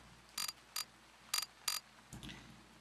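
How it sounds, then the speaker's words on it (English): A ratchet wrench tightens bolts on parts for a twin-turbo V8 scrap junkyard truck, four short crisp clicking bursts in an uneven rhythm followed by a duller clunk, close and otherwise quiet. "let me bolt these bad boys up."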